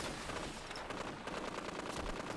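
A missile launched at a heavily armored alien creature in an alien-invasion video game, heard as a dense, sustained rush of noisy blasts and rapid crackling bursts, moderately loud and steady, with no talking.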